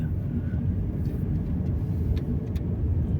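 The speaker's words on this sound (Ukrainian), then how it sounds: "Дивися ну, машина." A car passes on a road in Ojców National Park in Poland, a low steady engine and tyre rumble that holds fairly loud and even across the moment with no clear speech.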